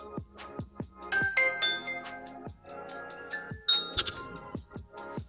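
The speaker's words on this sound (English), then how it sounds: "You can then choose your doorbell sound." A Ring doorbell chime plays through an Amazon Echo, a series of bright tones in a melodic ding-dong pattern ringing out clearly with no voices.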